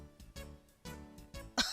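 A read-aloud voice imitates a cartoon sheep and dog coughing: several short, rough bursts in quick succession, the last one the loudest.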